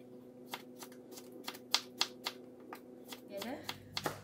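A knife cuts through a whole cucumber with the skin left on, giving a steady run of crisp, close chops on a board, with a soft voice talking underneath.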